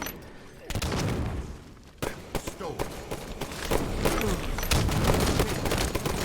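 Bursts of rapid gunfire and scattered single shots fill a competitive multiplayer shooter match, dense and loud throughout, with voices talking underneath.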